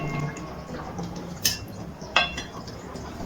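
Boiled shukto vegetables being stirred gently in a pan, mostly soft scraping with two sharp metallic clinks of a spoon against the pan partway through and another knock at the end.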